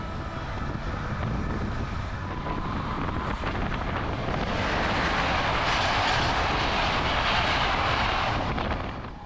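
Onboard a long-distance Balkan train running from Bulgaria into Bucharest: a steady, loud rumbling roar with constant rattle and hiss that grows brighter and harsher partway through, continuous throughout with no voices.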